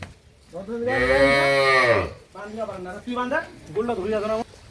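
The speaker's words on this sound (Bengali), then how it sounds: "প্রত্যেকটা গাভীর সাথে বাচ্চা লাগানো আছে" A cow kept with her calf, one of several cows with calves in Dinajpur, gives one long loud moo, followed by shorter lowing calls that could be animal or human voices.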